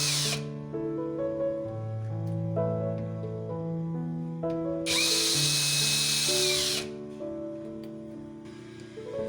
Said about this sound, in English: we need to go ahead and unscrew these two so we can get this part out